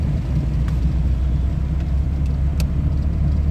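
A car engine holds a steady, loud low rumble that rises slightly as it revs while gears are shifted up toward fourth, with no voices over it.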